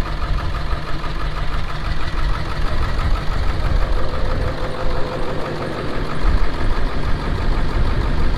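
A car engine idles roughly with an uneven, slightly knocking rumble, loud and steady throughout, with no speech over it.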